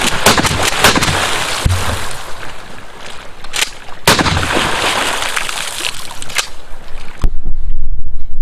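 Shotgun fired outdoors with an Olight PL-Pro Valkyrie weapon light mounted on it: a few sharp, loud blasts spaced a few seconds apart over steady wind-like background noise.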